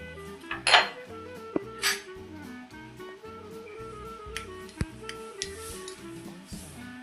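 Metal pot set down on a stove, with light clinks and clatters of cookware and utensils in a quiet kitchen, a few sharp knocks standing out over a low background.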